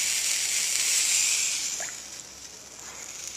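Water drops from a pipette landing on a lump of calcium oxide give a steady, close hiss of steam that fades over a few seconds, with a faint crackle as the rock reacts.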